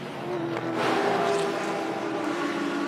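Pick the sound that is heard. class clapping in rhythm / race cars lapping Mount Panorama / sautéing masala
race cars lapping Mount Panorama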